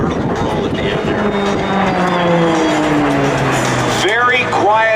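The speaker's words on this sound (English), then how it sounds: "A jet engine that turns a propeller. They call it a turboprop." A Hawker Beechcraft Texan II turboprop trainer sweeps past during a military open house air show demo, a loud whooshing engine roar whose pitch slides downward as it passes, with an announcer talking over it.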